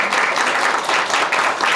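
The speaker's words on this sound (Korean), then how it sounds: "5분 모두에게 큰 박수 한번 부탁드립니다" Loud, dense applause from a conference audience at a forum session on a carbon-free island policy, a continuous roar of many hands clapping heard up close throughout.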